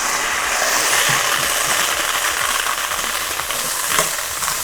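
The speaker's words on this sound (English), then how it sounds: "Just give it a little stir." Chickpeas (channa) are stirred in a cooking pot, giving a continuous close hiss and sizzle with faint scraping and light rattles, and no voices.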